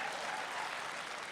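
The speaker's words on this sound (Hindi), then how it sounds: "आप बस तालियां बजाते रहिए" Steady applause from an audience at a Hindi poetry recital, a dense continuous wash of clapping with no gaps, moderately loud throughout the short stretch.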